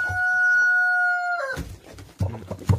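A Brahma rooster in a chicken coop crows one loud, close, drawn-out call, followed by softer clucking and rustling from the Brahma hens.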